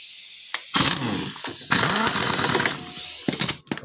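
A Honda Genio scooter engine with a rough, knocking noise is started and revved in uneven bursts, harsh and close, before cutting out abruptly at the end.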